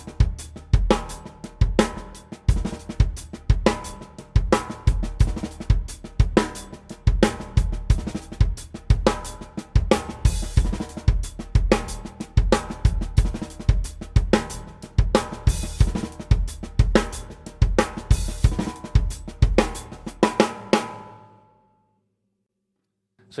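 A drum kit plays a groove, a dense, fast pattern of snare, hi-hat and kick with rapid 32nd-note flurries moving between hi-hat and snare, steady and close for about twenty seconds, then ringing out to silence.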